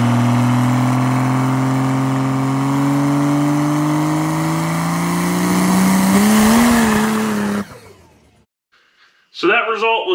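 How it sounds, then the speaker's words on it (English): A turbocharged drag car launches at full throttle in second gear, its engine note climbing steadily in a loud, sustained rising drone before cutting off abruptly, followed by silence and then a voice speaking. "I'm probably just going to flat foot it in second and see what RPM it goes to and see what kind of wheel speed that we can get out"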